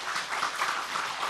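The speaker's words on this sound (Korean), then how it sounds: "뜨거운 환영의 박수 부탁드리겠습니다" Welcoming applause from an audience at a church opening ceremony, a dense steady patter of many hands clapping, moderately loud and continuous with no voices over it.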